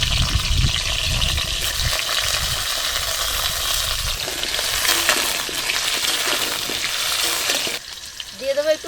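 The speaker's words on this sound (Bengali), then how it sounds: "আমি এইভাবেই আগে ভেজে তুলে রাখবো আলুগুলো" Potatoes fry in hot oil for aloo dum, a loud, close, bubbling sizzle with scraping stirs that rises and falls throughout.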